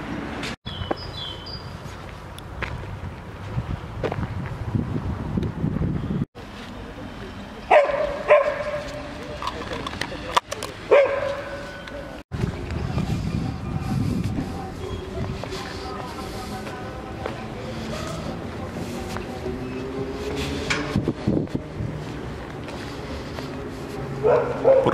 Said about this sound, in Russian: Еще собака.